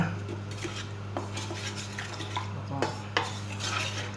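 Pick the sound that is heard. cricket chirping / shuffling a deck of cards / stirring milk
stirring milk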